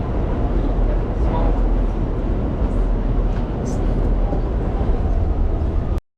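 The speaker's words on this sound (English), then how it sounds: "We're getting on the train." Loud steady rumble of a moving New York City subway train, a dense roar of wheels and carriage noise, cut off abruptly at the end.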